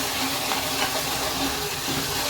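Tomato masala with red chili powder sautés in a pan, giving a steady, close broadband sizzle and hiss that holds evenly throughout with no pauses.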